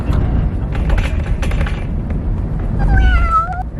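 An orange cat at a Thai cat show gives a single drawn-out, wavering meow near the end, rising over a busy, loud crowded-hall din with clatter and murmur.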